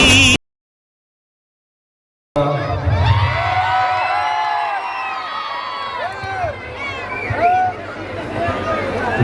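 A large crowd at a gathering in Davanagere honoring Appu roars after a brief silence, with loud, sustained cheering, shouting and whistles that swell and dip but never stop.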